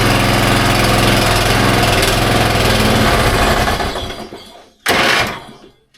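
Small motor of a homemade Yard Beetle vehicle running loud and close with a rough, rattling drone, then dying away, followed by a brief burst of revving before fading out.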